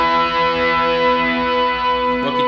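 Sustained electric guitar chords ring out with delay and reverb effects, stacked harmonics hanging steadily before a brief change near the end; no voice over them.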